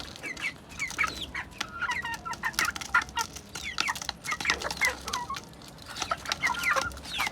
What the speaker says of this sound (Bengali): এখানে দুইটা মোরগ আছে আর কি, আর চারটাই দেখি।